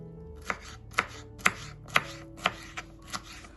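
Bell pepper being chopped with a knife on a board for an eggplant salad, seven crisp, evenly spaced knife strikes at about two per second, close and clear with no talk.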